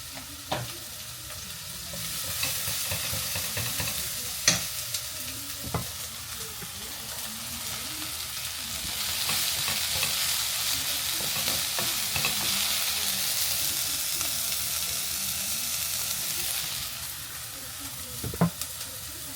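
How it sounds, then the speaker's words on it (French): Onions frying in olive oil in a pan sizzle steadily, with occasional stirring clicks and scrapes, the hiss swelling louder partway through before settling again. "Donc ça c'est déjà bon les oignons, pas besoin de le cuire trop."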